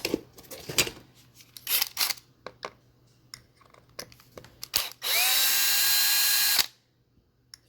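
A power drill runs in one steady, loud burst of about a second and a half while removing screws from the bulkhead of a Traxxas X-Maxx RC car, after several short clicks and handling knocks.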